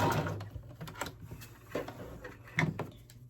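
A sewing machine back stitching a quilt top, a few short bursts of mechanical clatter and thumps with brief pauses between them, close and fairly quiet.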